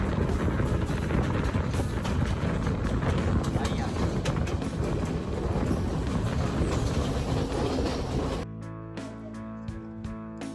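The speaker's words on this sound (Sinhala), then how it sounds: "කෝච්චියක් දැන් වේගෙන් යනවා" A passenger train in Sri Lanka runs fast on the rails, giving a loud, steady rumble and rattle heard from on board. The roar cuts off abruptly near the end.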